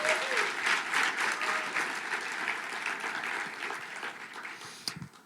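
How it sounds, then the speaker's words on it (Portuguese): A church congregation applauds together on their feet, a dense, steady wash of clapping that fills the room and slowly thins toward the end, with no voices over it. "Vamos aplaudir mais forte ao Senhor."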